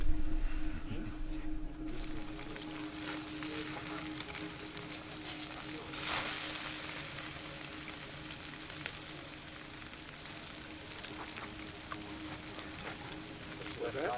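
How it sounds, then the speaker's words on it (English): Steak sizzles in a pan over a campsite fire, a soft, steady frying hiss that carries on quietly throughout with occasional brief pops. "I'm gonna go ahead and start on my steak."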